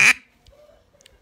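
A man imitates a mallard duck's quack with his mouth and fingers, producing one short, loud nasal honk followed by near silence.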